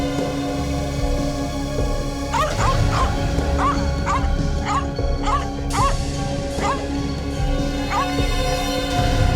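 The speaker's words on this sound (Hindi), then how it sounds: "कुत्ता परेशान है।" A distressed dog shut inside an empty house gives a run of short, high yelps and whimpers, repeating roughly every half second for several seconds over a steady droning background.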